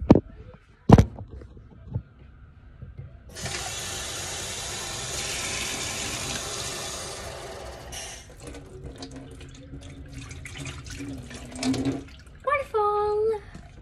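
Kitchen tap running steadily for several seconds while a pink cup is washed under it, a continuous hiss of water with splashing changes, preceded by clinks and followed by a voice.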